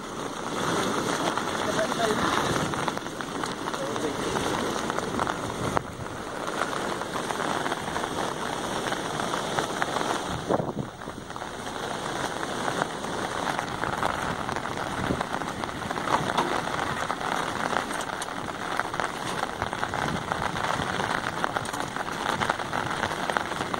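Heavy monsoon rain pours down steadily in flood-hit Telangana, a dense, even hiss that never lets up, with voices talking over it throughout.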